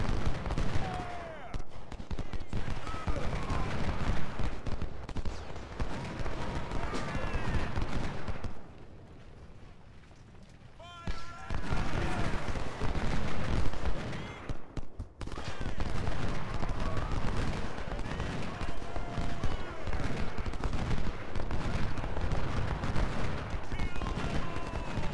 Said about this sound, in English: you're gonna have to shoot at him because he's shooting at you